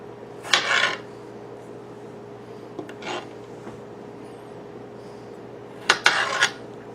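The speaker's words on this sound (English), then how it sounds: "I have half a Roma tomato. I'm going to slice it up." A knife slices through half a Roma tomato in three brief, close bursts of scraping cuts against a board, separated by quiet pauses.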